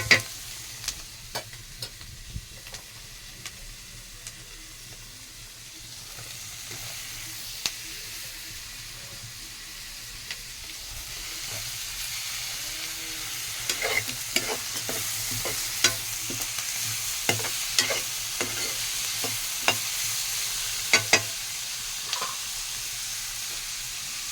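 Sliced onions fry in a pan alongside dried fish, with a soft steady sizzle, scattered clicks of stirring and utensil taps that grow busier toward the end.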